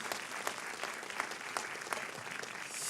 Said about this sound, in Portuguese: Você pode dar mais uma salva de palmas a Jesus?